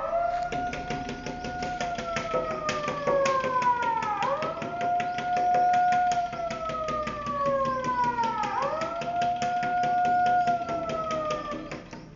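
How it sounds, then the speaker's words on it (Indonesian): At the proclamation moment of a village flag ceremony, a siren wails in long rising and falling sweeps, loud and sustained, cycling about three times, while objects are beaten in the background with a faint steady tapping. "Detik-detik proklamasi menyalakan sirine dan menabuh benda."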